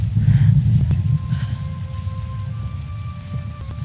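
A rainstorm in the video game Tomb Raider: steady rain pours over a deep low rumble, with faint sustained tones lingering in the background and the sound easing slightly after the first second.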